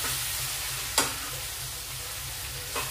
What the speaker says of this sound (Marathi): आता ही तोंडली जी आपण कापून ठेवली ती ऍड करणार आहोत।